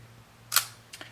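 A Soviet FED 2 film camera, recently cleaned and lubricated, releases its shutter at 1/100 second. A sharp, close click is followed moments later by a softer second mechanical click, heard over a low background hum.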